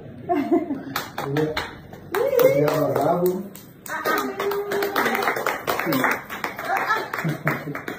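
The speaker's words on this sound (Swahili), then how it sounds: "Sasa vimejenga piga makofi pale." Sharp hand claps ring out in scattered bursts, some quick and close together, mixed in with lively talking voices and occasional laughter.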